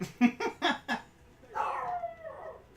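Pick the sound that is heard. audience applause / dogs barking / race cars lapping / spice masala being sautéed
dogs barking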